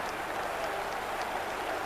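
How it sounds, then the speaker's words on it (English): A Serie A stadium crowd applauds after a midfielder's goal, steady dense clapping heard at a distance. "the applause still ringing round the stadium."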